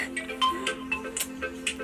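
A mobile phone ringtone plays for an incoming call in a home setting, a repeating electronic melody of short bright tones over a steady hum, fairly close and alone with no talking.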